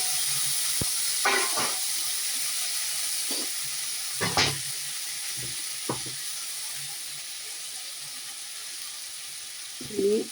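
Cumin and bay leaf tempering in hot oil as a ginger, garlic, onion and tomato paste goes in for a Bengali fish curry: a steady, bright sizzling hiss runs throughout, broken by occasional clinks and scrapes of stirring.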